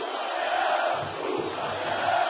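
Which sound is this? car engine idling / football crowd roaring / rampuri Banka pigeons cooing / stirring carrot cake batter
football crowd roaring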